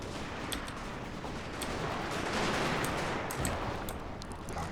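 Gun units in the Total War: Shogun 2 strategy game fire across a smoky battlefield as a dense wash of distant crackling musket volleys, with scattered sharper shots over a steady battle roar.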